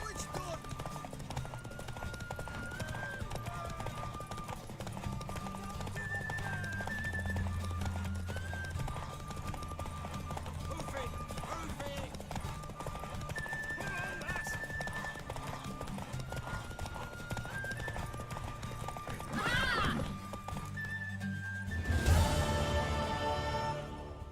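Horse hooves clip-clop steadily through The Witcher 3 game audio, with a brief neigh or whinny near the end, mixed under background game music and character dialogue.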